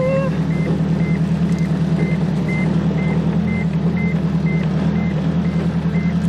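Seat belt warning chime in a car, a steady series of evenly spaced beeps repeating about every half second over a loud, constant engine and road rumble, with no voices.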